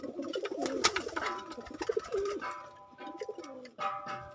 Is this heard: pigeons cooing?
yes